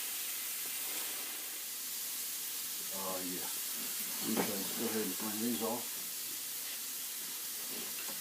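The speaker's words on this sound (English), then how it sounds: "so you can hear that sizzle on the bread" Constant bright hiss of bread for a Cuban sandwich sizzling and browning in a hot pan, with someone talking briefly over it midway.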